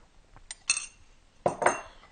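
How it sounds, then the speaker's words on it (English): A utensil clinks against a bowl while brownie batter with espresso is mixed, giving a few close, sharp taps and scrapes in two short bursts with quiet between. "I'm just going to mix this until everything is combined"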